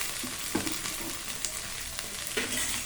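Okra pieces frying in oil in a pan, a soft continuous sizzle with a few light stirring scrapes, close and unaccompanied by speech.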